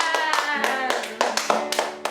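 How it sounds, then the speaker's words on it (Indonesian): Children clap their hands for God during a church service, a steady run of sharp, fairly close claps under voices singing or speaking. "Berikan tepuk tangan buat Tuhan"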